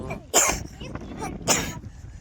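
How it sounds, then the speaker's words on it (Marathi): Two sharp, close coughs about a second apart, each a short harsh burst. "खोकला लागलाय"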